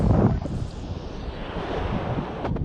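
Ocean waves and wind on a beach at Riohacha, La Guajira, with steady surf wash and gusty wind buffeting the microphone, continuous and fairly close with no talk.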